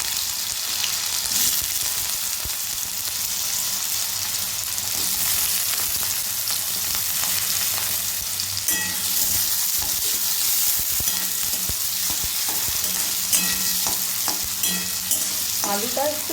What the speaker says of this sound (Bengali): তেলের ভেতর দিয়ে দিচ্ছি চেরা কাঁচা লঙ্কা।